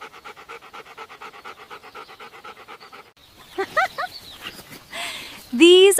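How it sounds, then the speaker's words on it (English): A farm dog pants steadily and rhythmically up close for about three seconds. Brief squeaky whines and other animal calls follow. "This is a farm dog."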